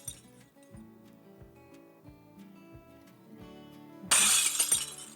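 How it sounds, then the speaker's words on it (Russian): A pane of glass shatters with a bright, loud crash that arrives suddenly after several seconds of quiet clip-clopping hooves and soft melodic tones, the breaking shards ringing on briefly. "Стекло разбилось"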